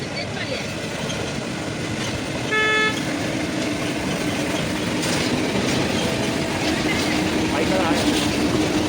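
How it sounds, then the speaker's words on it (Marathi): A slow-moving train rumbles steadily along the track with a continuous broad roar and faint rhythmic clatter, a brief horn-like tone rising near the third second, heard from on board. "अरे जाम स्लो चालते ट्रेन बघा"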